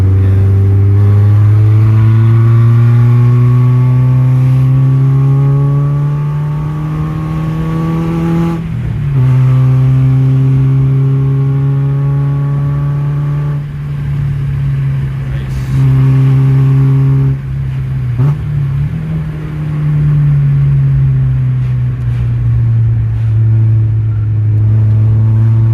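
A loud Renault Clio 172 Cup engine with a new exhaust drones and revs continuously from inside the cabin, seats removed, the pitch climbing, dipping and climbing again over a deep exhaust rumble.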